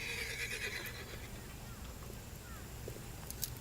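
A horse whinnies at the start, a short high neigh, with faint hoof clip-clop and a low rumbling background after it.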